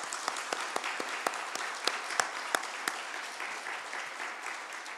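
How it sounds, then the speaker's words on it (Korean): A congregation at a church revival meeting gives the pastor a round of applause, a moderate wash of clapping with distinct sharp claps standing out near the front, easing off toward the end. "우리 3일 동안 귀한 말씀 주신 목사님 다시 한번 우리 큰 박수를 한번 하겠습니다"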